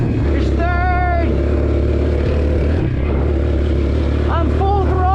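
An old Suzuki Ozark ATV that sat for years runs at full throttle, a loud steady engine drone with rising revs, while people talk over it.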